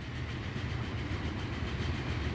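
A Garratt steam locomotive in the Transport Fever 2 game rolls past with a steady rumbling, rhythmic rail clatter, moderately loud and continuous.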